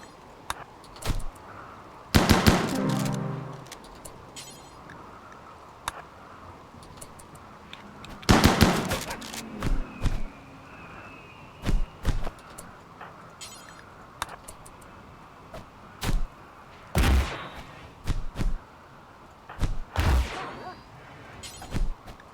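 RimWorld gunfire crackles in scattered bursts and single shots, sharp and punchy against a quiet background, with several louder volleys spread across the stretch.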